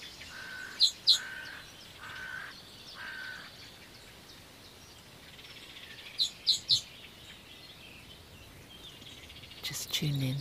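Outdoor birdsong: a few bright chirps and short trilled calls arrive in small bursts, with quieter calls and a faint background hush between.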